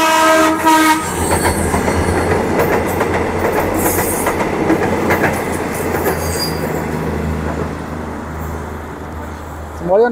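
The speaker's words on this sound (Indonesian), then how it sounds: "ada kereta api melintas dari arah timur. Kereta api feeder relasi Bandung Padalarang." A feeder commuter train on the Bandung–Padalarang line passes by with a short horn blast at the start, then a loud rumble and clattering wheels that hold steady before fading. Someone speaks over it.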